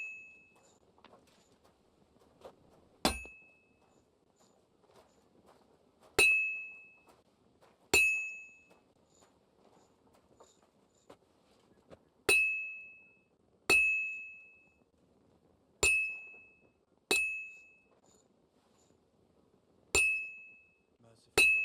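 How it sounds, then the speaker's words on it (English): Metal being hammered at a smithy in Kingdom Come: Deliverance II, about ten sharp ringing clangs at uneven intervals of a second or two, each ringing briefly over a quiet room-tone background. "I have to hammer it more evenly."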